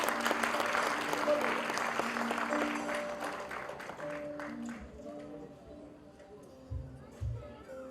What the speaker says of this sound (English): I think one round of applause for all of you.